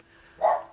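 A dog gives a single short bark, fairly close and mid-loud, in an otherwise quiet room.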